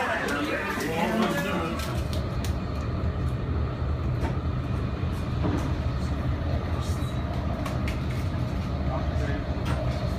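Steady low rumble of a Eurostar train in motion fills the whole stretch, with people talking over it near the start.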